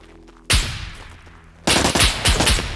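Gunfire in the survival game SCUM: loud bursts of rapid shots, one volley starting at about half a second and a heavier, denser barrage later, over a quieter background.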